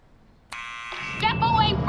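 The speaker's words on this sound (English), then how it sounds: "let's use the buzzer." A door buzzer sounds in the Back to the Future video game, a sustained electronic tone that starts abruptly and holds for under a second before a voice begins speaking over the tail.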